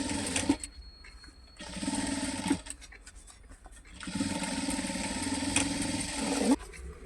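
A sewing machine stitches handbag fabric in bursts, loud whirring runs of rapid needle chatter that start and stop, with quieter pauses and handling clicks between them.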